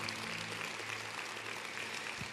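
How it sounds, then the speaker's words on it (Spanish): Church congregation applauding for the Lord during a sermon, a steady, even roar of clapping that fills the entire stretch with no voices over it. "¿Alguien le puede dar un aplauso al Señor?"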